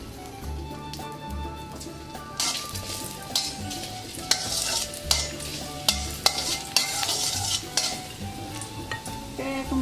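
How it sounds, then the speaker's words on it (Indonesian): Ginger stir-frying in hot oil in a pan: a continuous sizzle broken by repeated scraping and tossing strokes of a spatula that grow busier and louder partway through, with no talking. "Oke, ini minyaknya udah panas. Aku tumis jahenya dulu."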